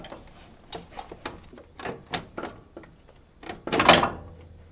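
A long bolt being worked out of a Toyota Tundra upper control arm, a series of scraping metallic clunks and knocks at irregular intervals, ending in a louder grinding slide near the end.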